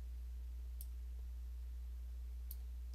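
Two isolated computer mouse clicks while dragging out interior walls in Chief Architect X8, sharp and quiet, one early and one near the end, over a low steady hum.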